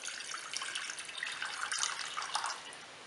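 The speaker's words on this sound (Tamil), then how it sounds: "அதுக்கு தேவையான அளவு தண்ணி விட்டுக்கலாம்." Water pours from a tap into a cooking pot for boiling green gram, a steady hissing splash that runs without a break for a few seconds in a quiet kitchen.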